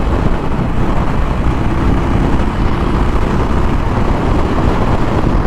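A 2021 Harley-Davidson Iron Sportster 1200 pulls steadily along a highway, its engine droning as a continuous broadband roar mixed with wind rush, with no talking heard.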